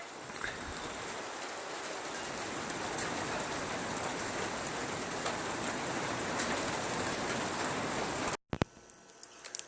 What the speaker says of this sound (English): It was raining a little bit.